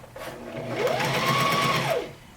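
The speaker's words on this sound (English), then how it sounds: "So let me go start sewing that up. All right, so we're doing a zigzag stitch" A sewing machine stitches a zigzag seam on a swimsuit in one close, steady burst. The motor whirs up, holds for about two seconds, then winds down.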